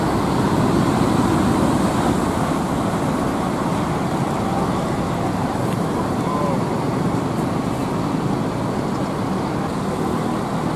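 Intercity buses, including a Muji Jaya Akila coach bound for Jepara, drive past at a depot, giving a steady, broad roar of engines and road noise throughout.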